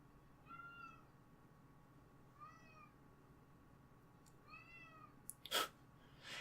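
Three separate meows from a house cat, evenly spaced and moderately close, each a clear tonal cry over quiet background hiss, with a brief sharp noise burst near the end.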